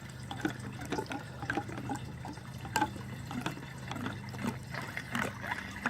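Gear oil pours from a tilted bucket while a GY6 scooter transmission is being filled, a faint, uneven trickle with soft splashes and small drips over quiet background noise.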